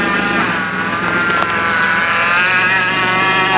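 The engine of a 2008 Chevrolet Impala LT with a worn-out pulley idles steadily and loudly up close, a constant drone with a whining, whirring tone layered on top.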